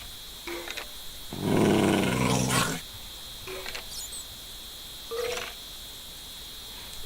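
A dog companion in a video game growls at hostile mobs, a loud sustained rumbling growl in the middle, with a few short fainter growls before and after over a steady high electronic tone.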